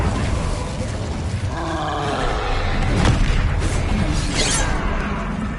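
Incendio fire spell cast in Hogwarts Legacy, a loud roaring whoosh of flame layered over rumbling game combat noise, with sharp bursts near the middle and end.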